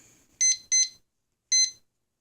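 A kitchen timer beeps while set during biscuit baking: two quick high electronic beeps, a short pause, then a third beep, clear and close in a quiet room.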